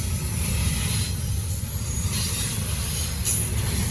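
A Norfolk Southern freight train rolls past nearby, a continuous heavy rumble of wheels on rails with hissing noise and a brief high squeal.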